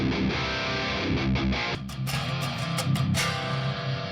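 Distorted electric guitar picked up by a microphone from monitor speakers, a bit roomy and harsh, strummed chords and bursts ringing out continuously.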